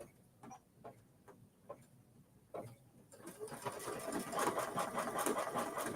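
An embroidery machine stitches a Kimberbell mini-quilt, starting with spaced ticking stitches before settling into a steady, fast mechanical whirring and clatter that grows louder and continuous.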